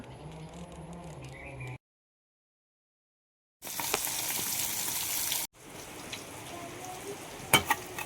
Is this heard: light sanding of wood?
no